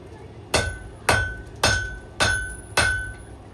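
A blacksmith's hammer strikes metal on an anvil five times at an even, unhurried pace, each blow ringing sharply and decaying briefly, close and loud with no talk.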